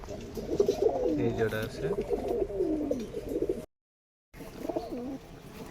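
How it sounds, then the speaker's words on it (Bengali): Pirojpuri pigeons coo close by in low, rolling, repeated calls, with someone talking over them and a brief dropout of silence partway through. "এই এক জোড়া হচ্ছে পিরোজপুরি কবুতর"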